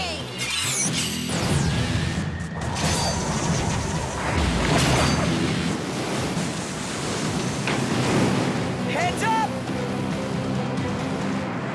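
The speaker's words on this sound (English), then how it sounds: "Tsunami wave." A giant tsunami wave summoned as an ability effect in a Bakugan cartoon battle: a loud, roaring rush of surf with crashing surges and whooshing swells that build and break repeatedly over about twelve seconds.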